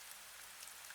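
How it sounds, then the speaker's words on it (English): Soft, steady rainfall on a rainy night around a greenhouse, a faint, even hiss with no voices and no distinct drops standing out. "only the peaceful sound of rain remains"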